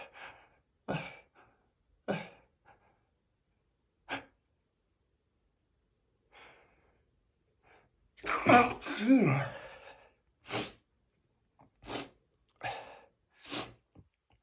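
A man reading aloud is interrupted by sneezing: a few sharp breathy inhales build to one loud, close sneeze in the middle, followed by short bursts of sniffing and breath in an otherwise quiet room.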